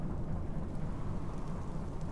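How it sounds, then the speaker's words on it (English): Wind and rain in the game Stormworks, out at sea near an oil rig: a steady, dense broadband wash with a deep low rumble throughout, fairly faint and constant, with no talk. "Getting a little bit more wind and a little bit of rain picking up at the moment."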